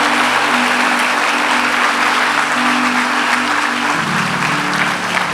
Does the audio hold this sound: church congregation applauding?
yes